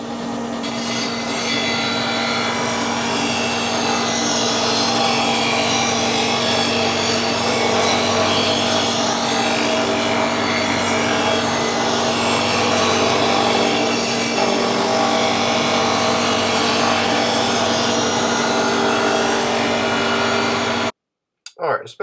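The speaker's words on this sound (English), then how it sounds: "this is the magna-metic Mag 8000 blade sharpener. I have the table set at 30 degrees, so this will be a 30-degree cutting edge" A Magna-Matic Mag 8000 blade sharpener grinds a lawnmower blade to a 30-degree cutting edge, a loud steady abrasive whine with a constant motor hum that runs close and unbroken before stopping abruptly near the end.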